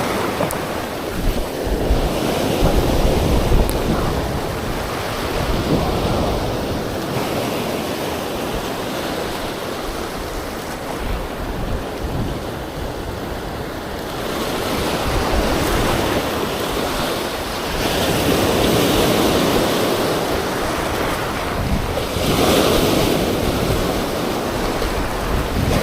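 Ocean waves surge and wash continuously at sea while fishing during the northeast monsoon (amihan), loud and close with rolling swells and heavy wind buffeting the microphone, no talking.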